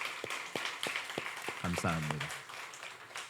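A church congregation claps at an anniversary worship service, with sparse, fairly regular claps at a moderate distance, and someone briefly speaks over them.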